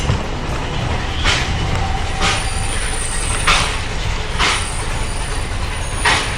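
A small train rolls close by on the Welsh coast, with continuous rumble, evenly spaced clacks of the wheels passing rail joints, and a faint high squeal.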